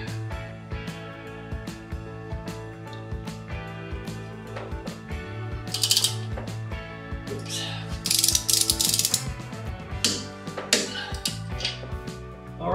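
A hand ratchet tightens rocker arm bolts on a Harley Twin Cam engine in a crisscross pattern, a run of fast, close metallic clicking strokes that grows louder and busier toward the end, with no talking.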